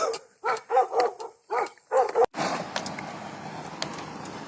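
Several loud, close dog barks in a quick series, then a sudden shift to road noise as a vehicle rumbles along with faint barking.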